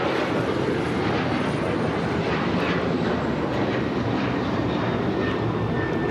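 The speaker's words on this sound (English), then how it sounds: "This is United Airlines 2667 taking off to Washington Dulles on the 737-900ER" United Airlines Boeing 737-900ER taking off at LAX, a continuous moderate jet roar with whining engine tones sliding through it, steady throughout and without voices.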